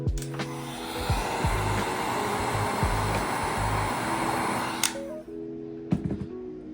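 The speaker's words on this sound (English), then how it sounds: "take your heat gun and post heat it so it will stay" A heat gun blows a steady, loud airflow while post-heating a red grille stripe overlay on a 2022-2024 Jetta GLI, holding constant for about five seconds before cutting off, followed by a few faint handling clicks.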